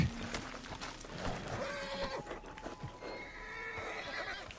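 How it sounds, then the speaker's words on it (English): Horse in the open-world western game Red Dead Online whinnies and snorts amid game ambience, with hoof clops and faint chatter underneath, at moderate loudness over a few seconds. "I calmed the horse down."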